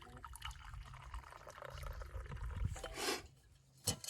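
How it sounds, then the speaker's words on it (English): Coffee poured from a pot into a cup, a short faint liquid splash building and then stopping, close but quiet, followed by a small clink. "Pour myself a cup of coffee."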